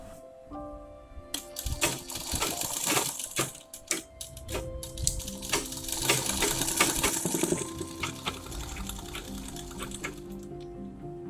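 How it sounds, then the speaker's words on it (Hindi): Sewing machine stitching the seams of a lined designer blouse, running in several close, loud bursts of rapid mechanical whirring with brief pauses and small clicks between them. "अब हम सिलाई लगाएंगे।"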